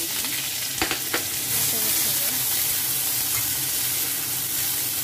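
Onion frying in used fish-frying oil, probably in a wok or pan, sizzles and hisses loudly and steadily throughout. A few stirring scrapes come near the start.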